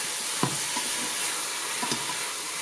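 Pork ribs are stirred in a cooking pot amid a steady sizzle, with a couple of soft scraping knocks from the spoon against the pot.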